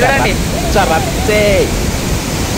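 Roaring water of Niagara Falls at the Cave of the Winds, a steady broadband rush filling the whole clip, with voices talking over the loud constant spray.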